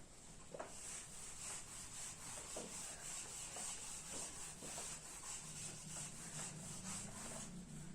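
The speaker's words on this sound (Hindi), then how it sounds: "आगे देखिए, मैं इसको रब कर रहा हूं।" Writing is rubbed off a classroom board with a steady, soft back-and-forth scrubbing and brushing, fairly quiet and continuous over low room hiss, with no speech.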